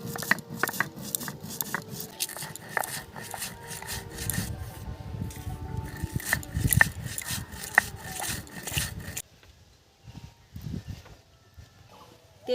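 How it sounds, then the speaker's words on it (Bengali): Spices are ground on a stone shil slab in a home kitchen, a close rhythmic run of scraping, knocking strokes that continues for about nine seconds and then breaks off into near quiet. "এখন আমি এই মশলাগুলো গুঁড়ো করে নেব।"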